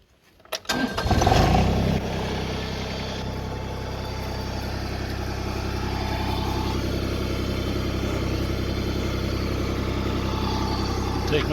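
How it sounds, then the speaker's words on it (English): Tractor engine used to run a backhoe cranks briefly and catches, then settles into a steady, loud diesel-like idle that continues close by. "So let's fire this thing up."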